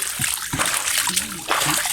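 Water splashes and sloshes at a cold spring in the province, with irregular close splashes over a steady rush of flowing water and faint voices nearby.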